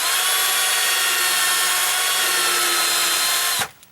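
Power drill pre-drilling a screw hole in a wooden gate, a steady high whine running loud and continuous for about three and a half seconds before stopping abruptly.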